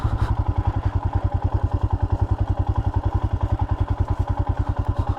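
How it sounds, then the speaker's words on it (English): A motorcycle engine passes close by on an autumn ride, giving a steady, loud, rapid throbbing pulse that holds evenly for about five seconds with a faint clattering edge. "Dad, look, a motorcycle."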